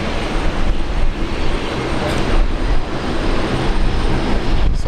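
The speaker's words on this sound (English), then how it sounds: "Finish those engine run ups, going back to the hangar." An aircraft engine run-up at Brisbane International Airport in heavy rain, a loud continuous roar holding steady with slight swells throughout.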